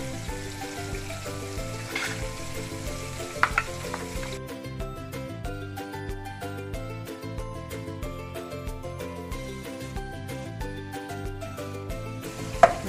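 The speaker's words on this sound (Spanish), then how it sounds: "vamos a empezar a sofreír cebolla perla. Y también vamos a agregar pimentón rojo." Pearl onion and red pepper sauté in a pan, a soft continuous sizzle with occasional light clinks, heard under steady background music.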